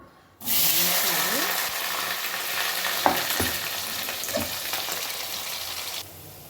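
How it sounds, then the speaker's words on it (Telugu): Sliced onions drop into hot oil and fry toward brown, setting off a sudden loud, steady sizzle that holds for several seconds with occasional stirring clicks, then cuts off. "ఆయిల్ వీటొక్కింది ఇందులో ఉల్లిపాయలు వేసేయాలి ఉల్లిపాయలు వేసిన తర్వాత బ్రౌన్ కలర్ వచ్చే వరకు"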